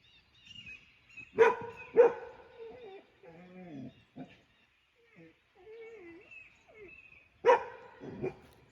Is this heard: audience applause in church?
no